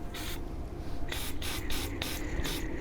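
Several bursts of aerosol spray hissing from a can, short sprays separated by brief pauses, close and fairly loud over a low background rumble.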